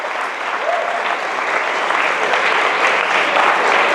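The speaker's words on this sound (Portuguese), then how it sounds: "Uma salva de palmas para eles." A church congregation breaks into steady, dense applause that holds at an even level throughout, with no talk over it.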